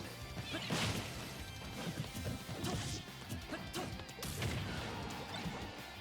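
Link's Master Blade sword effect in Smash Ultimate brings repeated sharp crashing hits and slashing whooshes. They sound over a busy, steady mix of game sound, with bursts that come and go in uneven rhythm.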